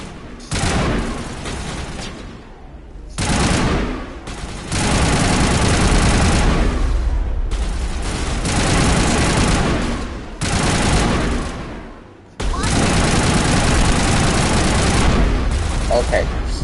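Sustained heavy gunfire in the Mass Effect video game, loud dense bursts of automatic fire broken by brief pauses, with booming low end and no talking.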